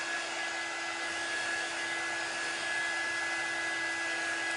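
Hair dryer drying a transfer in a kitchen, a loud, close, continuous blowing whir with a steady high whine, unchanging throughout and without talk.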